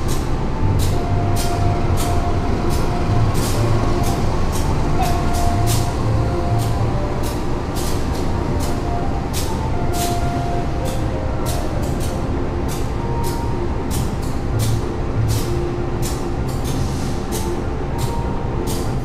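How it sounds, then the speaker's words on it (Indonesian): The Kertajaya passenger train from Surabaya Pasar Turi rolls into track 4 at Pasar Senen station, a continuous rumble with regular rhythmic clacks of wheels over rail joints, heard steadily throughout. "yang masuk di jalur 4 stasiun Pasar Senen adalah kereta api Kertajaya dari stasiun Surabaya Pasar Turi menuju ke stasiun Pasar Senen"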